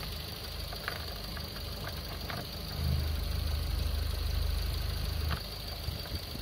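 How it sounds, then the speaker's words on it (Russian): A Suzuki Swift engine idles with a low, even hum close by, a slightly louder steady stretch in the middle, with small clicks and knocks. "Мотор на холостом у нас работает отлично"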